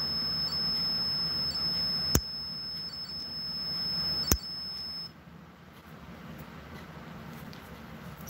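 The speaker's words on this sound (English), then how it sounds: "there I'm getting another beep as well" Electronic beeps like a smoke alarm, two sharp, brief chirps about two seconds apart over a steady high-pitched whine and low room hum, with no talking.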